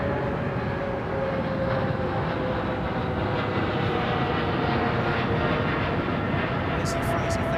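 Air Canada Boeing 777 airliner at London Heathrow, a steady distant jet engine roar with a faint whine, moderately quiet and continuous, with no speech.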